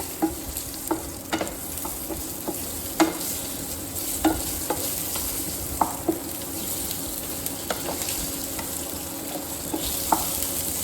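Mango pieces fry in a pan with dried red chillies, a dense continuous sizzle punctuated by regular clacks of a utensil stirring, close and fairly loud, no speech.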